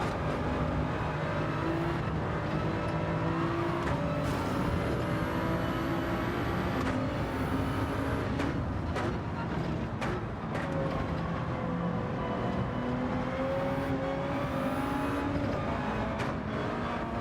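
Toyota Supra race car in a Gran Turismo 7 daily race at Monza, its engine droning steadily throughout with shifting pitch as it revs, close and continuous, with other cars audible around it.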